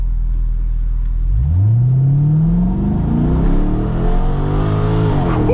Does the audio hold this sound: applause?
no